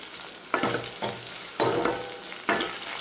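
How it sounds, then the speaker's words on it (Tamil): Onions, fenugreek and curry leaves sizzle in a pan for a village-style dried stingray fish curry, the steady frying punctuated by a few distinct stirring scrapes, close and clear with no talk. "வெங்காயம் நல்லா வதங்கட்டும்"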